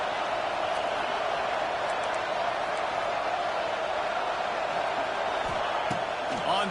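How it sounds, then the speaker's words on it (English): Football stadium crowd at Clemson roaring at full volume during a defensive stand, a dense sustained wall of cheering and noise with occasional sharper thumps toward the end. "Listen to this crowd just shaking the girders of this place trying to help their defense."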